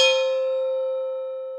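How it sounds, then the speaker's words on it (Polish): A gong struck once to signal a speaker that time is up at a JavaScript conference, ringing with a bright sustained metallic tone that slowly decays over about a second and a half, heard alone. "Wpadliśmy na pomysł, jak powiadamiać prelegenta o kończącej się prelekcji. Wiecie jak? Gongiem!"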